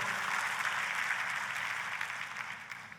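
Sustained applause from a large church congregation, a dense steady clatter of many hands clapping at moderate distance, slowly tapering near the end.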